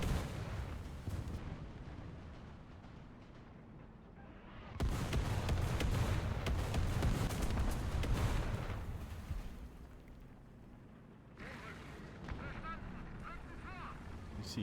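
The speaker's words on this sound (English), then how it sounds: "Here comes the artillery." Artillery fire in a tank video game, with a Jagdpanther G1 in play: deep rumbling blasts and a sustained roar of shelling swell and fade over the stretch, with a second wave building toward the end.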